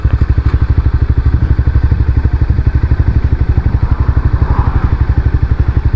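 A Honda CBR300 motorcycle engine runs steadily close to the microphone, a fast, even, low putter of firing pulses with a slight clattery edge and no voices over it, from a beginner rider who feels it sounds off.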